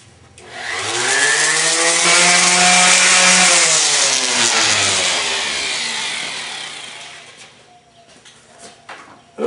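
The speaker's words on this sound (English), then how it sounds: "I'll hit this top piece with some 100 grit sandpaper or 120" A power sander with 100 or 120 grit paper works a wooden TV stand top, its motor whining up loud and close, running steadily for several seconds, then winding down to quiet.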